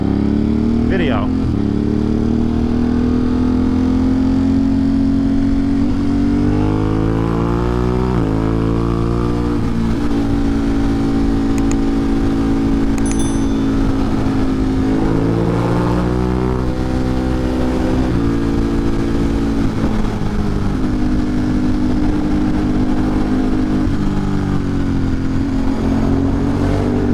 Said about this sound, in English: We do have a little bit of traffic here